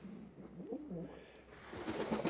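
A pigeon coos in soft, low rolling phrases across the clip. The bird is a Piétrain-line racing pigeon bred for long-distance races, hatched in 2012. It is fairly close and heard alone against a quiet loft background.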